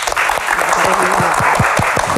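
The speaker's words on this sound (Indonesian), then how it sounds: "Tepuk tangan untuk Pak" Loud crowd applause with cheering voices mixed in, continuous throughout the short stretch.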